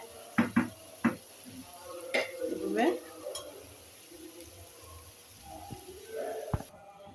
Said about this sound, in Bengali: এভাবে এভাবে আলুটা কষিয়ে নিচ্ছি